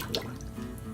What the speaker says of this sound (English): Little Music Man is continuing to wash his clothes with the plunger.